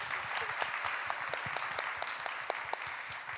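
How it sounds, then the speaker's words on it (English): Dense, steady audience applause for a panel speaker at a women-in-the-workplace conference, many hands clapping evenly throughout at close range. "Please give her a round of applause."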